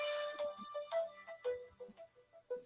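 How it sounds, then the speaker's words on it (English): A melodic phone ringtone plays a repeating series of clear electronic tones for an incoming call, moderately quiet and steady. "I've got a phone call coming in."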